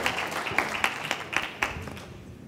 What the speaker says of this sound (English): Give Ian a big round of applause.